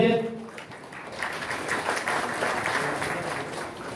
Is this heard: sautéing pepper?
no